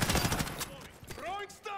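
Rapid bursts of gunfire ring out in the video game Modern Warfare during a 2v2 match, loud and close, with a voice briefly heard among the shots.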